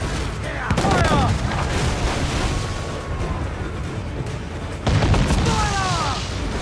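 Ship cannons in the Assassin's Creed 4 Black Flag naval battle fire in heavy booming bursts over constant sea and wind noise, with crew voices shouting orders amid the broadside volleys.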